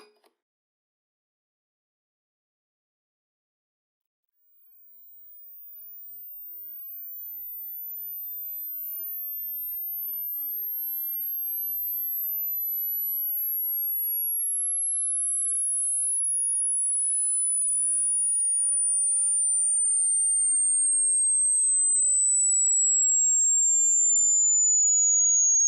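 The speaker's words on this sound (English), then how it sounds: "Let's start with frequencies that the human ear can't perceive. Then move on to the familiar frequencies and end with the low frequencies." Pure sine test tone for a hearing test, starting very high and sweeping slowly downward, growing from silence to a steady, moderately loud whistle heard alone.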